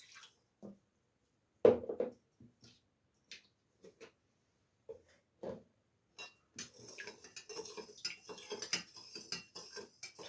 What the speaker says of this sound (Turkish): tuzumuzu sirkede karıştıralım.